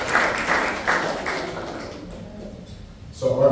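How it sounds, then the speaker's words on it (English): Light applause from a crowd at a building's grand opening, a short burst of clapping that fades out, followed by a faint tap or knock near the end. "So I want to just start clapping up for you."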